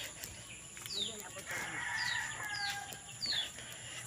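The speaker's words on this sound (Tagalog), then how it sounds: "Yan yung aking mga sisiyo" Chickens and chicks cluck and peep at a backyard coop, high chirps repeating over a low, steady outdoor hum with a voice speaking faintly in the background.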